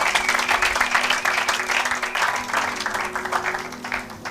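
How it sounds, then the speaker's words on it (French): A church congregation claps and applauds together in praise, a steady, dense wash of clapping that holds throughout, with a faint voice underneath. "Acclamons pour la gloire de notre Dieu."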